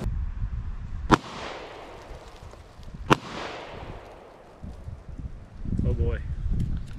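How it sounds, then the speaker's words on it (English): Two sharp gunshots ring out about two seconds apart, each echoing outdoors, as they strike a robot's battery pack; a voice speaks briefly near the end. "Now we're going to shoot the battery pack directly, so see how this goes."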